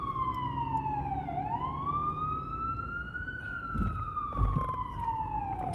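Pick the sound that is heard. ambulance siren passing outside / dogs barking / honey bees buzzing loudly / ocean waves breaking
ambulance siren passing outside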